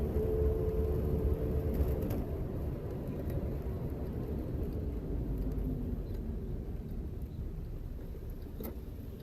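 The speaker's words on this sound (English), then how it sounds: "Seems to be idling all right." A Reliant Kitten car engine idles with a steady low rumble and hum, recorded close and continuing evenly with no talking.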